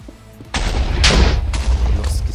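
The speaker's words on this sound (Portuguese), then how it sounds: "Tá explodindo tudo aqui." Explosions in a Minecraft SkyWars match, a string of loud booming blasts landing about every half second, each rumbling into the next with no speech over them.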